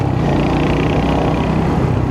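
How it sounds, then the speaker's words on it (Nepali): A motorcycle engine running steadily while riding, a loud, close, continuous low rumble with a fast, even throb throughout and no talking. "यो बाइकको साउन्ड चाहिँ मिठो लाग्छ कि मलाई, कस्तो दामी भुटुटुटुटु आउँछ"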